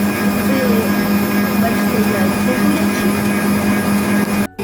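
An electric mixer whipping eggs to a white foam, a steady loud whirring motor hum that runs without pause and cuts off abruptly at the end.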